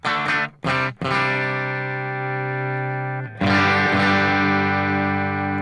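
Electric guitar through a captured 65 blackface Princeton amp profile, a few short plucked stabs followed by long sustained ringing chords with slight grit, played loud and alone.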